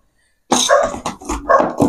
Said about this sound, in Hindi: बाहर कुत्ते भी भौंक रहे हैं